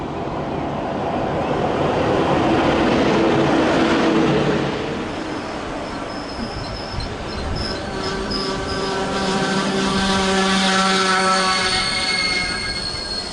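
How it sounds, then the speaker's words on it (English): A MAV Eurosprinter locomotive rolls past at a Budapest station, a loud broadband rumble of wheels on rail, with sustained metallic squealing tones rising in the second half as it passes close by. "we have a similar train coming in the opposite direction"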